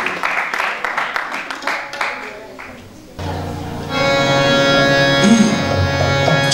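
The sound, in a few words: audience applause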